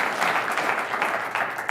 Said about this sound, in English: please give a round of applause to our great panelists